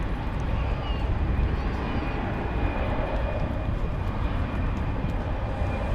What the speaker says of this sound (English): an A350-1000 is also moving around back there